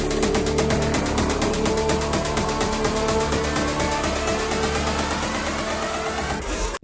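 A rising build-up in an electronic music track, dense and loud with a rapid pulsing, grinding texture of clashing tones that swells steadily before cutting off abruptly at the end.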